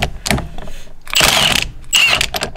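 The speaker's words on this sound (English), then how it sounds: "for that I have a big nut buster, the Milwaukee M18" A Milwaukee M18 impact wrench works a big nut in a few short bursts, with clattering mechanical hammering separated by brief pauses and two louder, sustained rattling runs near the end.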